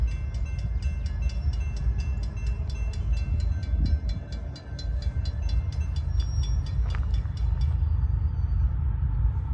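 A CSX freight train rolls past near Bayview Road in Blasdell, New York, a continuous loud rumble with a rapid, regular clicking rhythm of wheels over rail joints that fades out near the end.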